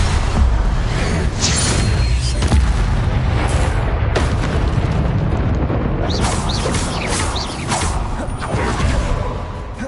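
Confringo spell blasts in a Harry Potter video game, loud rumbling booms and crackling bursts layered over a dense, continuous roar of game effects lasting several seconds.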